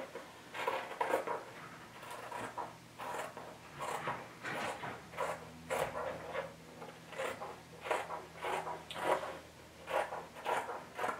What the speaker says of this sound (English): I've got two of these I'm going to cut out now. I'm using the sharpest scissors I have.